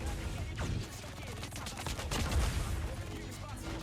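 MG42 machine gun firing in Call of Duty Mobile: a loud, sustained stream of rapid automatic shots, dense and continuous for the whole stretch with heavy low-end punch.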